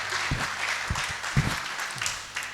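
A church congregation applauding to acclaim the Lord, a sustained wash of clapping mixed with periodic low thumps in a steady rhythm.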